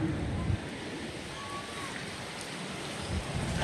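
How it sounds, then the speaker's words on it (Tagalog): Strong coastal wind in Eastern Samar during the amihan season, blowing steadily by the sea as a broad continuous rush with surf-like wash, fairly loud and unbroken throughout. "Malakas pa rin yung hangin."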